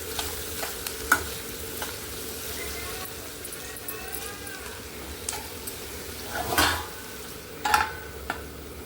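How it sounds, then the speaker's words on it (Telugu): Onion pieces fry in a pan with salt while being stirred, a steady close sizzle broken by a few louder scraping stirs and clinks. "ఉప్పు వేసామంటే ఉల్లిపాయ ముక్కలు కూడా చక్కగా వేగిపోతాయి"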